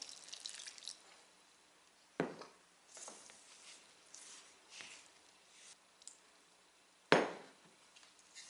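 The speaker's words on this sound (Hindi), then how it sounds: "इसको वाटर डाल के गूंद लेते हैं।" Water is poured into flour to knead soft bhature dough in a kitchen, giving a few scattered close splashes and knocks separated by quiet stretches, with a sharper burst near the end and no speech.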